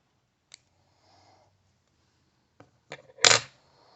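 Scissors snip through fly-tying thread at a tying bench while a blood dove jig is being tied, giving a few faint small clicks and then one short, sharp, close cut.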